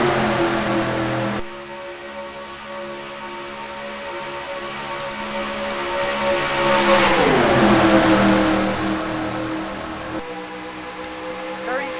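Race cars from the NASCAR Racing 2003 video game circling Daytona under computer control, a steady loud engine drone that swells and drops in pitch as the pack passes, heard through a poor-quality microphone.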